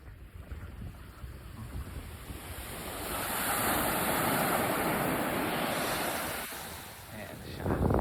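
Surf pounds a long sandy beachfront at General Nakar, Quezon, in a steady roar with heavier breaking swells building in the middle, wind buffeting the microphone throughout and a high steady hiss running across the first part.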